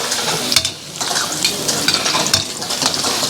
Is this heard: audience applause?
no